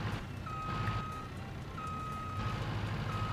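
A forklift in a video game gives out steady, evenly spaced reversing beeps over a low engine hum, with no one talking.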